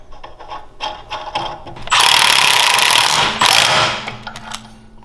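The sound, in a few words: tightening the pulley nut on an engine jack shaft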